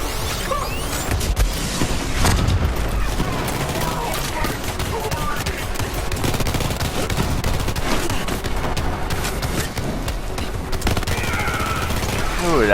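The EMP5 gun in the video game Borderlands 3 fires in loud, rapid continuous bursts, mixed with whooshes, impact crashes and smashes throughout.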